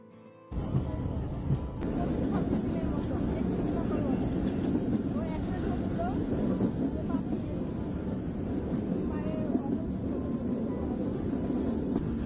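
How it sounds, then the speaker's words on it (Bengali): Continuous low rumble of a train departing toward Kushtia, Bangladesh, steady and close, starting abruptly after a brief quieter moment. "এরপর কিছুক্ষণ পরে আমাদের ট্রেনটি ছেড়ে দিল।"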